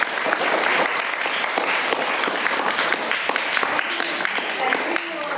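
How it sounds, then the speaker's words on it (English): An audience claps for a speaker at a public event where desktops and printers are being handed out, dense sustained applause that carries on throughout, with voices mixed in. "clap for sir and we are very grateful"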